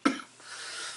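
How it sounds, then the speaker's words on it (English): A single short, harsh cough close by, followed by quiet room noise. "this cough is not good."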